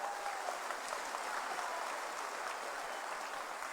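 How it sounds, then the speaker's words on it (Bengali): A large crowd at a political rally in Baharampur claps for Suvendu Adhikari, a steady, dense wash of applause that holds evenly throughout without any voices. "এবার সবাই মিলে হাততালি দিয়ে তাকে স্বাগত জানাবো"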